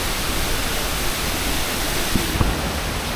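Constant roaring rush of a waterfall in Dominica, dense and loud, filling the whole stretch without pause.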